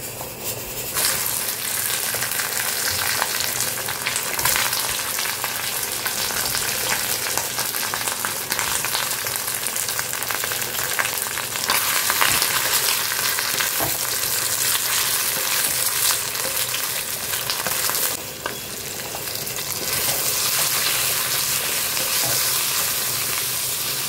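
Food cooking in a nonstick wok with little oil, a loud, dense sizzle and frying crackle with stirring scrapes, steady throughout apart from a brief dip, no talking.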